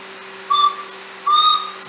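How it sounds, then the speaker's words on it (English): A small child blows two short, breathy flute notes, each a brief tone with a pause between, heard close over a faint steady background hum. "Mati, you're playing flute."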